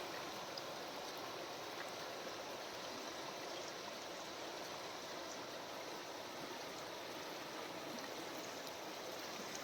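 The Narmada river flowing along a rocky bank on a riverside pilgrimage route, a steady, soft rushing of water with no break in its even wash and no talk over it.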